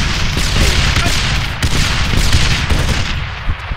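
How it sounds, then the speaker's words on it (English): Enemy gunfire in ArmA 3 erupts as a steady barrage of close, loud shots and impacts, with overlapping bursts over a rumbling battlefield background. "oh, enemy fire! Enemy fire!"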